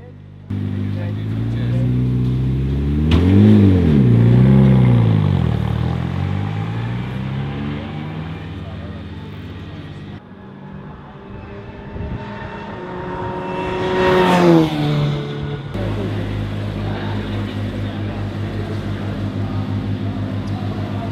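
Renault Clio Cup race car engines roar past nearby as cars leave the pit lane at Silverstone, pitch rising and falling as each car passes, with revving and a loud high-pitched sweep midway.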